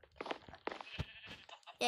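A sheep bleats on a farm, short quavering calls close by, with a louder bleat at the end and a voice talking in between.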